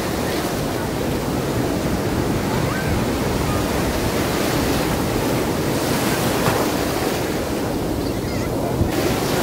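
Ocean waves break and surge steadily onto Puri beach, a loud, continuous roar of surf with wind rushing across the microphone and no pauses throughout.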